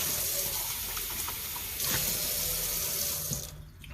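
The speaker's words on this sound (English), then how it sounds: "First thing I do is rinse this container out." Tap water runs steadily into a container being rinsed out, a continuous close splashing hiss with small shifts in tone as the flow hits the container, then easing off near the end.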